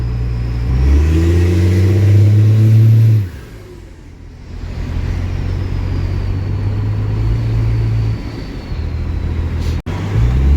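A car engine revs up loudly, its pitch rising, then drops off before settling into a steady running drone that continues near and loud.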